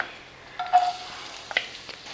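Finely chopped garlic dropped into hot oil, a soft, faint sizzle with a few brief stirring scrapes and clicks, close by and quiet.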